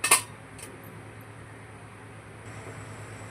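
A metal lid set onto a cooking pot of boiling water on a gas stove gives one sharp clink at the start, with a faint second tap and then a quiet steady hiss.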